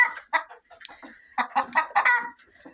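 A broody hen sits on a nest of chicken eggs with duck eggs added beneath her, giving a series of close, loud clucks in short irregular bursts with brief pauses between them.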